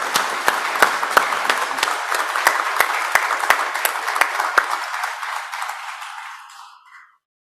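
Warm applause from an audience for the Greystone Singers choir, dense steady clapping with a few sharp individual claps standing out, gradually thinning and fading to silence after about seven seconds.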